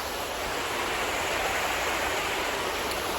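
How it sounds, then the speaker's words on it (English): A small waterfall pours nearby on an outdoor walk, a dense, even hiss of falling water holding steady throughout without pauses or voices. "Just literally stood next to a bit of a waterfall, taking in the sounds and the scenery"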